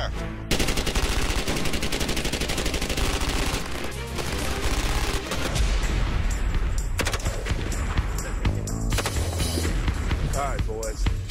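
Belt-fed machine guns open up in sustained, loud bursts of rapid automatic fire that go on almost without a break, with people talking over the shooting.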